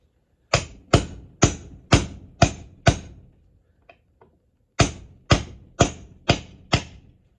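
Two sets of five sharp metallic hammer blows on a socket driving a cooling fan bearing in, even rhythm, loud and close, separated by a short pause with a couple of faint taps.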